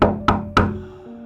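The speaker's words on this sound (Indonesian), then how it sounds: "ia kembali dikejutkan dengan suara ketukan di pintu depan rumahnya" Three sharp knocks on a house's front door, evenly spaced and close, in a horror story sound effect, each rap ringing briefly before a quiet hum remains.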